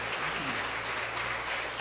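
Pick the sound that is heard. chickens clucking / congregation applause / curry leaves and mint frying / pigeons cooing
congregation applause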